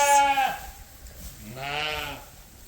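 Ewe lambs bleating on a sheep farm: two clear, wavering bleats, the first loud and close, the second longer after a short pause, with no talk.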